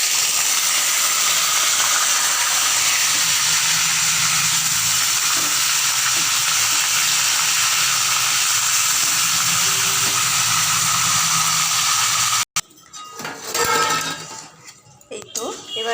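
600 grams of chicken marinated in 100 grams of sour yogurt fries in a pan for chicken makhani, giving a loud, steady hissing sizzle under a talking voice, broken by a sudden cut and then stirring sounds.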